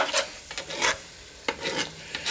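Tomatoes going into a hot chili pot, sizzling steadily while a spoon scrapes and stirs the bottom in repeated strokes, close and fairly loud with no voices.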